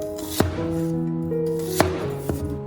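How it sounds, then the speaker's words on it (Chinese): A knife chops through half an onion on a cutting board, cutting it into thin slices: three sharp, close knocks spaced unevenly apart, the steady hum of a kitchen running beneath. "先把洋葱切成薄片"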